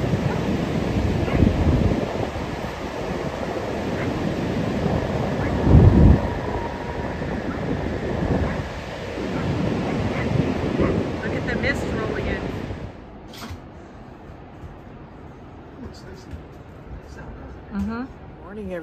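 Ocean waves surge and roar on a beach with gusting wind buffeting the microphone, loud and steady for most of the stretch before easing into a calmer, quieter wash of surf near the end.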